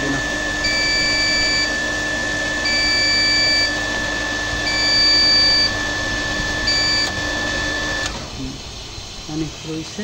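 Electric steam boiler for an ironing table sounding its low-water alarm: a loud, steady electronic tone with repeating higher beeps in a regular on-off pattern, running for about eight seconds before cutting off, with faint background noise after.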